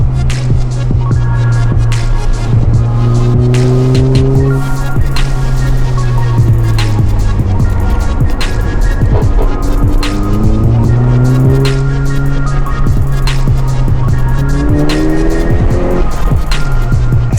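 A Seat Leon Cupra 6P engine revs up and down in repeated rising and falling sweeps, loud and close, with brief tire noise from the car.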